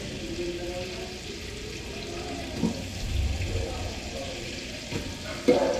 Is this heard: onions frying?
yes